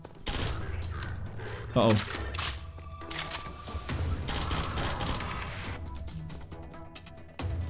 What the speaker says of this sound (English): Shoot him in the leg. Shoot out his kneecaps.